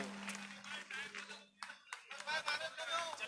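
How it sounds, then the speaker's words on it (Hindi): Audience applause at a Hindi poetry recital, steady dense clapping under a few voices, with a brief dip midway before the clapping swells again. "भाई आपको तालियां जोरदार बजानी चाहिए इस लम्हे को"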